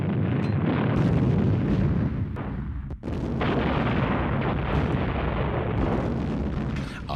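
Artillery guns firing, a dense continuous roar of booming blasts with little pause, loud and close, as if from a barrage.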